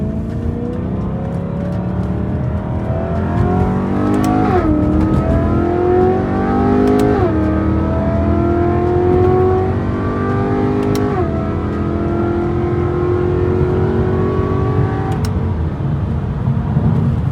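A BMW E92 M3 with hot Brembo brakes revs and accelerates steadily, its pitch climbing through several gear shifts, loud and close with no voices.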